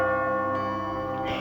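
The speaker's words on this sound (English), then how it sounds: "Suddenly, a breeze moved through the broken church bell." A broken church bell in a village rings with rich, sustained harmonic tones that hang and decay, with a fresh strike partway through and another near the end, heard clearly with no talk.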